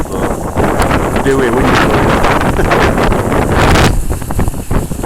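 Strong wind on the seafront at Blackpool buffets the microphone in a loud, continuous roar that eases near the end, with a person talking through it.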